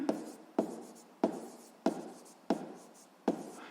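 Chalk or a marker writes on a board during a seventh-grade physics lesson: six sharp strokes land at regular intervals, each followed by a short scraping trail, close and distinct with no voice over them.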